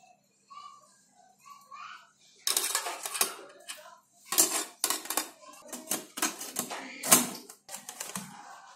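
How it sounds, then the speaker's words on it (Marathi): Metal vessels clink and clatter as a pot is set down inside a water-filled idli steamer, a burst of sharp knocks after a few quieter clicks, close and fairly loud. "हे इडलीच्या भांड्यामध्ये पाणी ठेवलंय. आता त्याच्यामध्ये 1 भांडं ठेवते."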